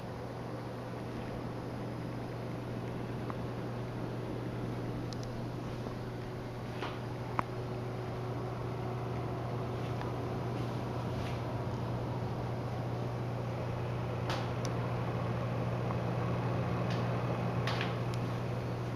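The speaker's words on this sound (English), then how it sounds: "I hooked up the Phantom's 4 included fans to a hot wired power supply to see what it sounds like" Four stock NZXT Phantom case fans, hot-wired to a power supply, run with a steady, unbroken whoosh and a low constant hum, faint ticks now and then, and no voices.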